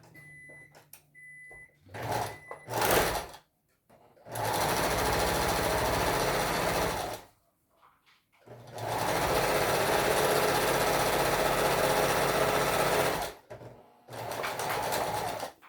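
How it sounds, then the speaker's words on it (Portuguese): A sewing machine running a safety seam on fabric, with long loud whirring stitching runs broken by pauses and a few short start-stop bursts, close by with no talk. "E agora a gente também vai passar uma costura de segurança aqui. Um pezinho de máquina também"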